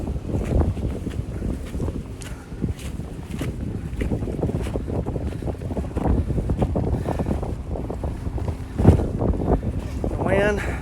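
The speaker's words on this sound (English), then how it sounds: "The wind right now for sure is not my friend." Strong wind gusts roaring across a mountain trail on a cold day, buffeting the microphone in a steady, loud rush with brief swells, while a person talks underneath.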